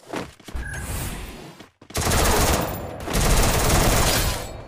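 Rapid bursts of automatic gunfire in a squad battle-royale shooter game, loud and close, with a brief gap between rattling volleys.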